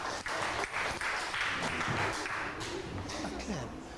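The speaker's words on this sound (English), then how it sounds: "I give a clap for them" Students in a grade 6 science class clap for classmates, a soft, uneven patter of hands in a small room, fairly faint and brief, with some chatter mixed in.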